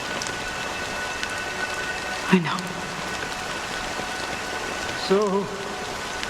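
Steady rain falls in Honkai: Star Rail as a soft, continuous hiss, with brief louder swells around two short voiced moments, near and even throughout.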